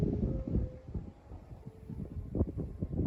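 Gusty wind buffets the microphone while a Thai chula kite is flown outdoors, giving a steady low rumble that swells and dips in uneven surges.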